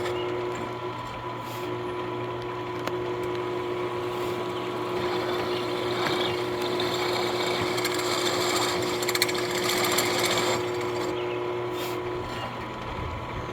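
Drill boring holes into an aluminum guitar pedal enclosure, a steady whirring machine drone with a high tonal whine and gritty cutting noise that swells near the end.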